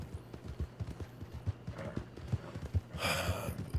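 Rhythmic horse hoofbeats in the video game Red Dead Online clop along at an unhurried pace, close and clear, with a brief burst of hissy noise near the end.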